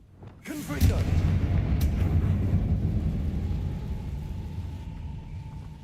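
A Confringo blast spell erupts in Hogwarts Legacy as a loud booming explosion with a long rumbling tail that slowly fades over several seconds.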